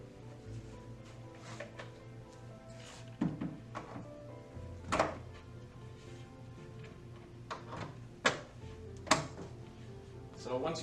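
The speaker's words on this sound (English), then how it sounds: "so we're ready to snap the door on" A cabinet door is snapped onto Lockdowel Euro hinges, giving several sharp clicks and thunks spread across the stretch, each short and close, with a person talking between them.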